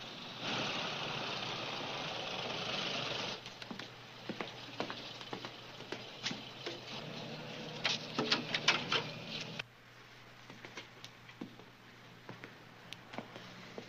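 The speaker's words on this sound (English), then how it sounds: "Motorcycles." Steady low engine rumble of idling motorcycles, loud at first then dropping quieter, with scattered clicks and clanks over it.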